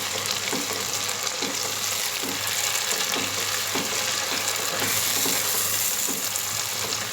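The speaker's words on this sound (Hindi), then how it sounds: "अब हम टमाटर को इसमें मसाले में भूनेंगे।" Tomatoes fry in a spiced onion masala in a pan, giving a steady close sizzle broken by regular scraping strokes as they are stirred.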